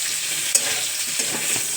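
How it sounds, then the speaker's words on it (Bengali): Diced potatoes fry in hot oil with a steady close sizzle and crackle while a utensil stirs them, giving a couple of sharper scraping knocks against the pan. "আলুগুলো একসাথে ভেজে নিচ্ছি।"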